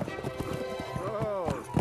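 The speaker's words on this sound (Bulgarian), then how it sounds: "Това е кон. Кон, срещу нас кон." Hooves clip-clop steadily as a horse gallops nearer, a fast rhythmic beat under a background music score, with a brief whinny-like tone and voices talking over it.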